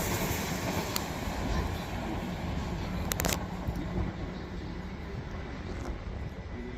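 A Class 387 electric train passes through Clapham Junction, a steady broadband rumble of wheels and motors that holds loud and continuous throughout, with a few brief sharper squeals partway through.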